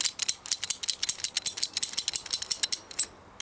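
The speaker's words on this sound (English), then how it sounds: "it's just a PVC pipe cutter" A PVC pipe cutter ratchets through plastic pipe in a quick run of sharp, close clicks, roughly steady and alone, with the clicking breaking off near the end.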